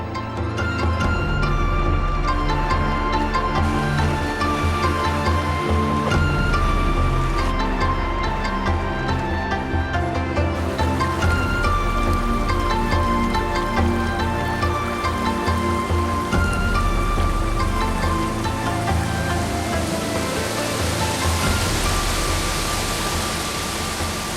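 River water rushes over waterfalls in Hokkaido as Pacific salmon swim upriver, a dense, steady roar that continues unbroken for the whole stretch beneath sustained musical tones.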